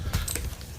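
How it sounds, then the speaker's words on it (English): Tarot cards shuffled by hand, a brief close riffling and soft flutter of card stock over a steady background hiss. "they're hearing the sound of me shuffling"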